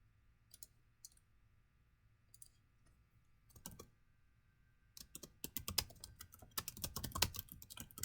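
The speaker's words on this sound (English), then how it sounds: "let me just type that out." Soft clicks on a computer keyboard, a few scattered keystrokes at first, then a faster, denser burst of typing. The room is quiet around them.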